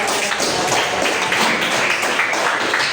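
A classroom of students gives a student group a dense, steady round of applause, close and loud, lasting the whole moment with no talk over it.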